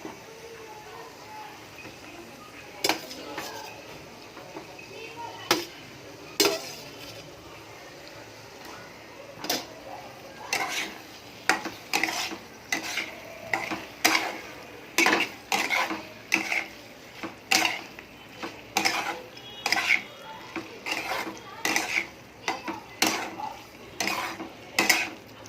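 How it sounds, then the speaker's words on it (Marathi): A spoon stirring chicken pieces in a kadhai for a Sangli-style chicken dry curry makes repeated sharp metal scrapes and clinks that grow more frequent over time, with faint background voices. "आता आपण याच्यामध्ये हे चिकनचे जे पीस आहेत आपण काढून ठेवलेले ते थोडे थोडे करून मिक्स करूया."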